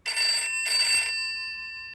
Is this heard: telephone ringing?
yes